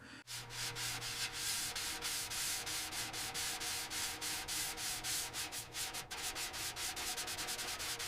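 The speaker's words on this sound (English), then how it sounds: "First, we sand and stain the wooden..." Steady rasping strokes of sandpaper work across the wooden wheel of a 1920 Ford Model T, close and loud, with a continuous even rhythm and no talking.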